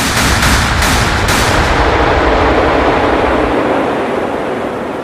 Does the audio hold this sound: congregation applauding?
no